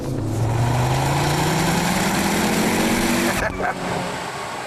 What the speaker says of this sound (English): One of my favourite parts of this car is the sound of the engine. Just listen to this.